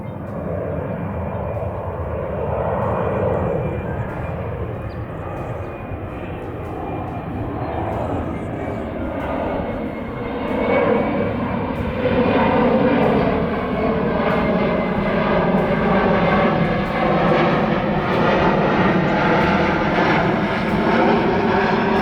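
An airplane passes at Palomar Airport, its engine drone steady and loud for over twenty seconds, rising a little in pitch and intensity as it nears, heard alone without talk.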